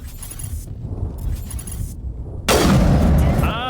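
Gunfire from a sniper rifle in the video game Mass Effect: a quieter stretch of game ambience gives way to a sudden loud, dense burst of shots that stays sustained to the end.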